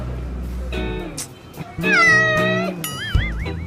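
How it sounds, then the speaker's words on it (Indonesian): A cat meows several times nearby, drawn-out, wavering cries rising and falling in pitch, with a short pause between calls and no speech. "kucing siapa nih?"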